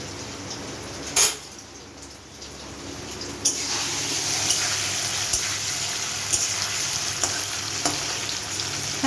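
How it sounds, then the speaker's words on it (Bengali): Paneer pieces fry lightly in an oiled pan for a paneer curry, giving a steady close sizzle and hiss with a few sharp spatters and a louder crackle that swells and holds. "হালকা করে করে ভেজে নিচ্ছি।"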